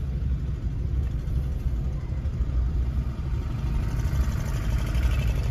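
A car engine rumbles steadily from inside the cabin during a driving lesson on a single road, a low continuous drone with slight rises as the gear changes; no talking.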